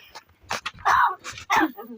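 A talking crow imitating a cough: a handful of short, rough, throaty coughing bursts at close range, with a person's voice between them.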